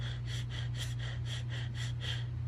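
A voice imitates hyperventilating by taking quick, sharp, repeated breaths, about eight even gasps in a row, close and clear over a steady low hum.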